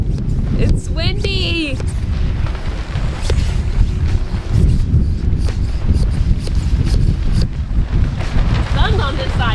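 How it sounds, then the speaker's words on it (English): Strong wind buffets outdoors in warm sunshine, a constant low rumble and gusting roar across the mic, with a person speaking over it and brief chirpy sounds at the start and end. "It's windy."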